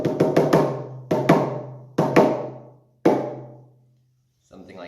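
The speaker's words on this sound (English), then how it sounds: "The chaotic drum beats sound like this." A shamanic drum is struck in chaotic beats: a quick cluster of four hits, then pairs and a single blow, each booming close and ringing out before the next group, with silence between groups.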